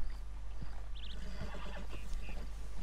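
In Red Dead Redemption 2, a wild American Paint horse in a herd gives a fairly quiet, short neigh with a wavering whinny, followed by soft hoof clops and scuffs against a low steady background.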